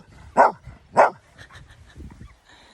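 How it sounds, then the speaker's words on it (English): A dog on an outdoor path gives two loud, close alert barks about half a second apart, followed by faint rustling and softer sounds. "He's alerting. Woof, woof. That's an alert."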